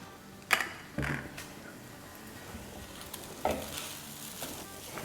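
Chicken stir-fried over a high flame sizzles steadily and quietly, broken by a few sharp clanks and scrapes of the utensil against the pan.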